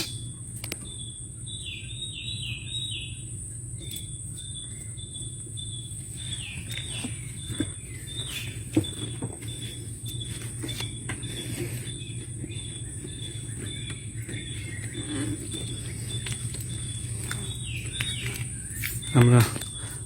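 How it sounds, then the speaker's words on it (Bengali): Birds sing in the Sundarbans forest: repeated bright chirps and short trills at mid distance over a constant high insect drone and a low hum, with a brief knock near the end. "পাখির কলকাকলি শুনছি সুন্দরবনে"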